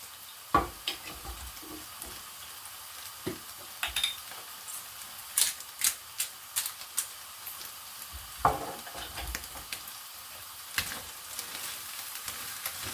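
Kedgeree is stirred in a pan over a quiet sizzle, with scattered scrapes and taps of a utensil against the pan at irregular intervals.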